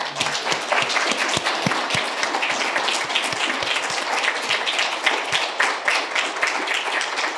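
Applause at a retirement celebration for a fire chief, a steady round of clapping from an audience in a hall, many hands at once with some louder nearby claps standing out, sustained throughout.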